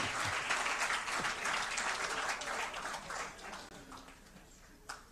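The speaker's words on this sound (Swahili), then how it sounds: "Hebu tuongeze makofi kidogo" Steady crowd applause at a bank's annual financial report meeting, fairly distant and even, with a faint voice near the end as the clapping thins out.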